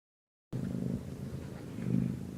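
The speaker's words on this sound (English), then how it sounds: "I hear a cat." A cat purrs softly and steadily up close, a low rumbling sound that swells slightly near the end.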